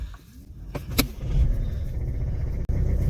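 A Mercedes A180 BlueEFFICIENCY with a 1.5 dCi diesel engine cranks with a few clicks, then catches and settles into a steady low diesel rumble, close and fairly loud, with a brief dropout near the end.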